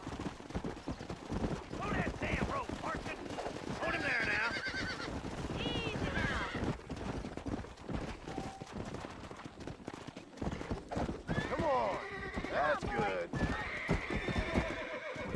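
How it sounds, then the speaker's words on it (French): A horse being lassoed in the Red Dead Redemption video game gives repeated whinnies and neighs over rapid clip-clopping hooves. Distant gunfire cracks sound in the background, and a voice talks over the action. "Capturer un cheval avec le lasso."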